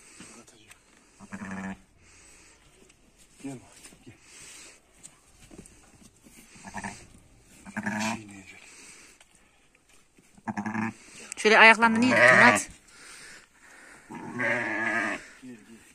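A newborn lamb in a rural Turkish village gives short, intermittent bleats, loudest near the end, between stretches of people talking nearby.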